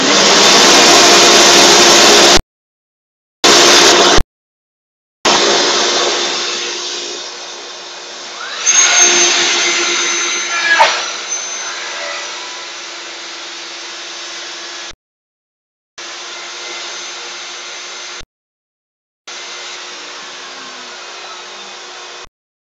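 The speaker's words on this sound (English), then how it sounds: "we just use plunge routers. Now it's going to get real noisy," A plunge router whines at high speed as it cuts wood at a live gear expo demo, loud and steady with brief rising strains, broken by several abrupt silent gaps.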